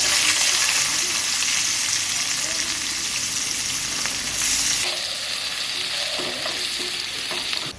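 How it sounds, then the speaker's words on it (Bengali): Chopped onions sizzle and fry in hot oil left from frying bhola fish, seasoned with black cumin, a steady close hiss with occasional stirring scrapes throughout. "এইবার পেঁয়াজ কুচিটারে দিয়ে দিব।"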